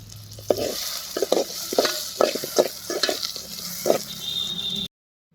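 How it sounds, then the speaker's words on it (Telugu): Potatoes frying in oil in a pan for a curry, with a steady broadband sizzle throughout and repeated sharp scraping and clinking of a spatula stirring against the pan, roughly every half second, close and moderately loud, ending abruptly. "బంగాళదుంపల్ని కంప్లీట్గా వేపాల్సిన అవసరం లేదు"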